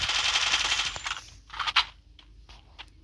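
Suppressed AR rifle gunfire from a weapon-guessing video game: a rapid burst of crisp shots, then several separate single cracks spaced apart, moderately loud with no talk.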